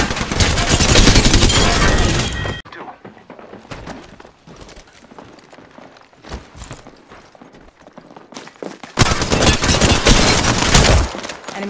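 Rapid gunfire bursts in Apex Legends, loud and dense at the start, dropping to quieter scattered shots and clatter in the middle, then heavy sustained firing again near the end.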